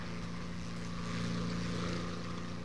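Propeller aircraft engine in the combat game War Thunder: a steady, low droning hum with a buzzy, tonal engine note, continuous and faint with no talking.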